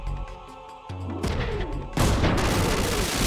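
Missile explosions in the PSX game Front Mission 3 burst as a rolling series of loud, crackling booms that build and overlap, growing heavier toward the end.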